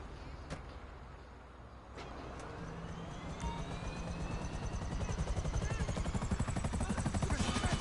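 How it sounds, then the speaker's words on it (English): A video game helicopter's rotor chop builds steadily, growing louder and denser toward the end, with a rising whine over the thumping beat. "if you want to just spawn a helicopter,"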